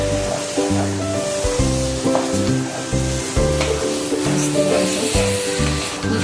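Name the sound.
stirring curdled milk into thickened milk for kalakand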